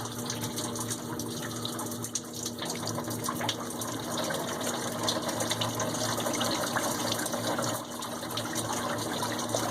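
Coolant pours out of a 1995 Opel Astra F 1.4 engine onto the subframe during a timing belt, water pump and thermostat change: a steady, close gushing and splashing of liquid that runs without a break.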